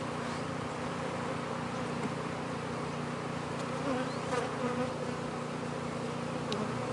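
Honey bees crowd a hive frame of capped brood and nectar stores, their soft continuous buzzing hum steady and close throughout, with no voices.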